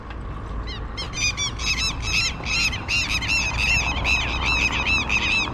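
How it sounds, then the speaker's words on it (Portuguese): A flock of birds at a beach in Araruama, Brazil squawks loudly and repeatedly, harsh honking calls overlapping in a rapid chorus against low background noise. "Os pássaros acho que estão me dando um bom dia."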